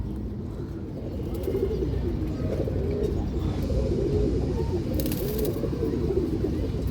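Pigeons, including a female, coo in a loft, a continuous chorus of soft overlapping low coos, fairly close and steady.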